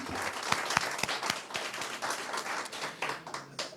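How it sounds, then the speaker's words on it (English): Applause from mourners at a celebration of life memorial, a modest crowd clapping with distinct individual claps audible, close and fairly loud throughout. "So let's give ourselves a round of applause as well."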